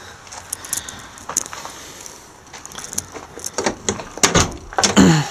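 A car door with worn hinges is worked back and forth, giving sharp metallic clunks, creaks and rattles that grow louder and more frequent toward the end, close up.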